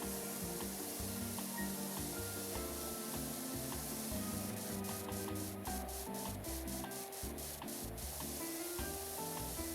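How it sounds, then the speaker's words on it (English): Steady pressure-washer spray hisses continuously in Powerwash Simulator, loud and unbroken, with a brief run of rapid clicking partway through. "I'm gonna spray it as I climb over it"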